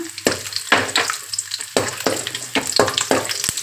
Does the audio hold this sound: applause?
no